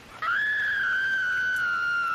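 A woman's scream as a sound effect, one sudden piercing high wail that starts sharply and holds loud and steady to the end.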